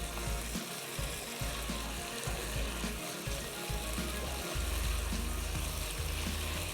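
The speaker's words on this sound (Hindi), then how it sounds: "अब ये मसाला डालने के बाद हमने अच्छे से इसको भूनना है" Spiced chicken fries and is stir-roasted in a pan with masala, a busy close-up crackle and hiss with intermittent scraping stirs, fairly loud and steady.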